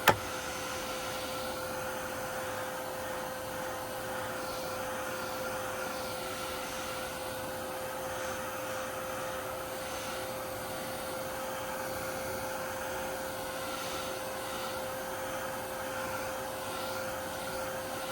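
A handheld drying tool, likely a heat gun or hair dryer, blows steadily on a freshly painted craft background, a constant loud whooshing roar with a faint high whine, unbroken for the whole stretch.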